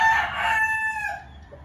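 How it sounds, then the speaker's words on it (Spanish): A rooster, one of a prized white gamecock line, crows once, loud and close, in a single drawn-out call that fades toward the end. "Este sí es un gallo, no, no un viejo."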